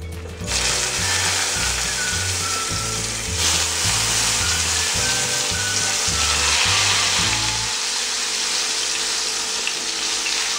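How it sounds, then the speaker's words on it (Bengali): Brinjal slices fry in hot oil in a wok, giving a steady, loud sizzle with broadband crackle that carries through the whole clip; low musical tones sit underneath, and no one speaks. "কড়াইয়ে তেল আমার গরম হয়ে গেছে, এবার আমি এক এক করে বেগুনগুলো ভেজে নেব।"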